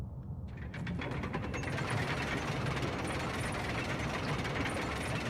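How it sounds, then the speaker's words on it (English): Continuous clicking and grinding of mechanical gears turning in the video game Limbo, a dense ratcheting rattle that starts suddenly and keeps a steady, loud churn. "In this case, we've gone to gears, mechanical sounds."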